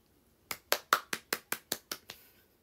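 Eight quick, sharp hand claps in an even, brisk rhythm, close and fairly loud, then silence.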